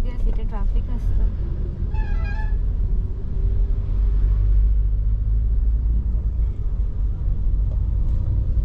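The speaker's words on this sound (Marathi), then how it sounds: "मुंबईला जाणारी बस" An ST bus idles at a bus station near Shirgaon market, bound for Mumbai, with a steady, heavy low engine rumble throughout. People talk over it and a brief horn-like tone sounds early on.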